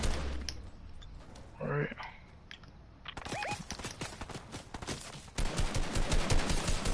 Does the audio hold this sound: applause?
no